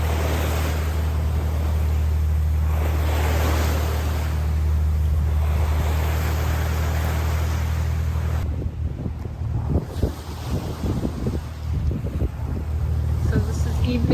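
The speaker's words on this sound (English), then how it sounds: "The waves are a bit unpredictable, and every now and again there's a biggie" Ocean waves at sea heard aboard a sailing boat on an unpredictable swell, a steady broad wash of water and wind rumble with hull motion, continuous and fairly loud throughout.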